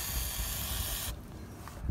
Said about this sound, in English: spray your tank straps with some WD-40.